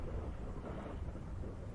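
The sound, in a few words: rain and thunder effect in horror video game Pacify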